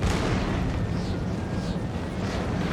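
Cannon artillery fire in the Napoleon Total War video game, a dense continuous rumble of distant booms blending into one steady roar with no distinct individual shots.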